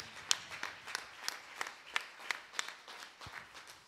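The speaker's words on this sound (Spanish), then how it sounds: "Hay que darles un gran aplauso" Light applause from a church congregation during a service, a modest scatter of claps that rises and dips unevenly, fairly quiet and somewhat distant.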